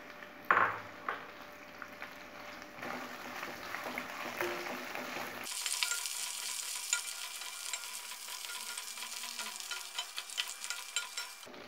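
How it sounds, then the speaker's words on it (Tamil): Finely chopped ginger and dried red chilies roasting on a slow flame for Guntur ginger chutney, with a low crackle and spatula scrapes and a few utensil clinks, growing into a steadier dry sizzle partway through. "ஸ்லோ ஃப்ளேம்லேயே வச்சு இது எல்லாத்தையுமே நம்ம வறுக்கணுங்க"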